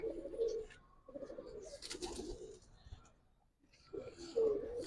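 Giribaz pigeons cooing in a rooftop loft, several soft throaty coos close by in bursts with quiet gaps between.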